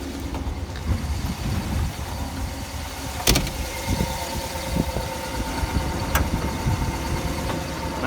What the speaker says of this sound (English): My phone does pick up small engine and valve train noise